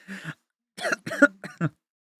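Several short, harsh coughs close up, coming in separate bursts with brief pauses between them.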